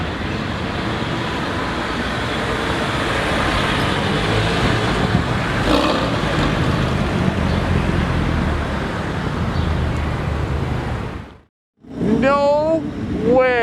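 A heavily MSO-modified McLaren 720S roars loudly and continuously, cuts out abruptly, then climbs through rising revs at close range. Voices are audible around it.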